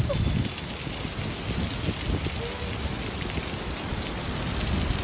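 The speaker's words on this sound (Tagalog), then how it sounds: "Grabe, ang lakas ng ulan ngayon dito sa Riyadh." Heavy rain pours down in Riyadh, Saudi Arabia, a dense, steady hiss of drops pattering on surfaces, close and continuous throughout.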